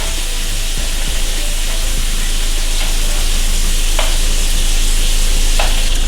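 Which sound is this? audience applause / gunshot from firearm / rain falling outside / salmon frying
salmon frying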